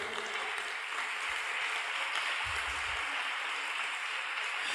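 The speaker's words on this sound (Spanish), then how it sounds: "Aplauda al Señor." A church congregation applauding, a steady, fairly faint wash of clapping that fills the whole clip at an even level.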